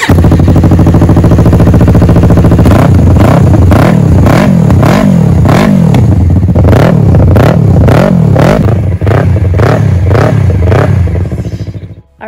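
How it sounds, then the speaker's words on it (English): A Yamaha R3 motorcycle fitted with an M4 Street Slayer 3/4 exhaust idles loudly and close, then revs in a rapid series of sharp, rising blips. Crackles follow the revs, and the engine cuts off at the end. "It's an M4 Street Slayer 3/4 exhaust, and not only does it sound amazing,"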